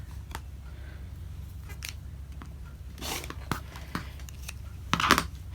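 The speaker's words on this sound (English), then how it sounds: "You can take it right now and trim this piece off here." Scissors trimming a piece of fabric while sewing a scrappy pincushion, a few faint soft snips and rustles close by over a quiet low hum, with a slightly louder cut near the end.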